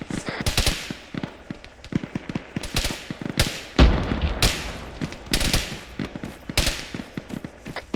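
Gunfire in a video game rattles in rapid, sharp bursts and single cracks aimed at a fuel tank, loud and close, with faint talk in the background.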